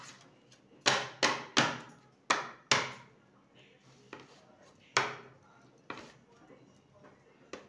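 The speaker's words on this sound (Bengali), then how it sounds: "এবার এটাকে একটু ট্যাপ করে নেব।" A pan filled with batter for Bikrampur-style Bibikhana pitha is tapped on a hard surface to settle it: about nine sharp, close knocks in quick irregular bursts, with quiet gaps between them.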